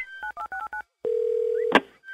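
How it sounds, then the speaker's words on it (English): A telephone keypad dials a call: five short, evenly spaced two-tone beeps, a pause, then a long steady tone ending in a brief burst of noise, followed by a fainter tone. "Now, let's make some random phone calls."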